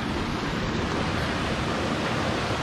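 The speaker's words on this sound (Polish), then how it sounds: "Teraz właśnie usłyszałem jakiś mały wodospad" A small waterfall in California flowing, a steady broadband rush of water, close and continuous with no talk.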